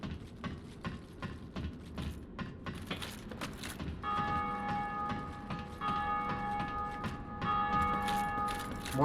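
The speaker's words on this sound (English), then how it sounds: "More bells." Church bells in Dark Souls Remastered ring out in sustained tones over a busy game soundscape of footsteps and ambient clatter, with the bell tones growing steadier partway through.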